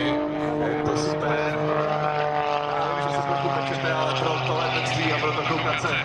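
An aerobatic propeller airplane flies at the Pardubice air show, its engine drone rising and shifting in pitch through a manoeuvre, while a commentator talks over it.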